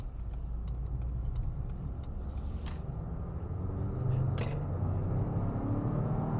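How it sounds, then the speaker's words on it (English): Inside a 2026 Jeep Grand Cherokee Summit with a turbocharged four-cylinder engine accelerating onto a freeway, a steady low engine and road rumble rises slightly as it builds speed, heard from the cabin without talk. "Motor sounds pretty beefy"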